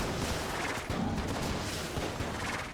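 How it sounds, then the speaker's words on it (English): Explosions in the video game Enter the Gungeon, a dense, continuous wash of crackling blasts and rumbling booms at moderate loudness with no clear gaps between hits. "Might be a little bit aggressive on the use of explosions"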